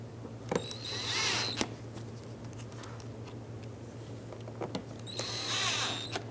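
A power drill driving T20 screws into the front bumper trim of a 2013-2020 Nissan Pathfinder, two short whirring bursts near the start and the end, with a quiet steady hum in between.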